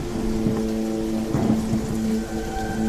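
Heavy storm rain lashes down around a boat at sea, a steady loud downpour with a low rumble of thunder, alone without voices.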